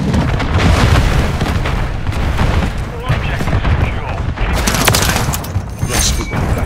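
Hardcore Domination match in Call of Duty Modern Warfare 3 with dense gunfire bursts and heavy booming explosions, loud and continuous, while voices talk over the battle.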